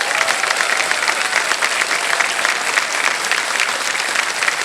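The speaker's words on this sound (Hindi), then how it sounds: "जल्दी से तालियां बज जाए इनके लिए" Studio audience on the KBC quiz show breaking into sustained applause for a contestant receiving a cheque, a dense, steady wash of many hands clapping at even loudness throughout, with no voices on top.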